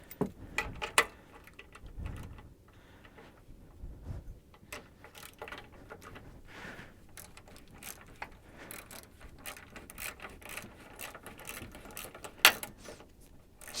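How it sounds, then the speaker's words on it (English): A socket wrench ratchets a shock absorber bolt loose on a 1992–2000 GM 4WD K truck, a quick irregular series of clicks and metallic knocks close by, with no talk. "I think the rest of the way I can get it off with a socket"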